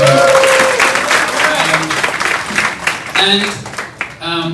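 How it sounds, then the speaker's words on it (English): A crowd at a YouTube creator camp in Cebu bursts into loud applause and cheering, with voices and whoops mixed in over the clapping at close range. "So a big round of applause for yourself, for all of you."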